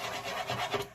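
A glue stick is rubbed back and forth over paper in short, close scratchy strokes, soft and dry, with no voice.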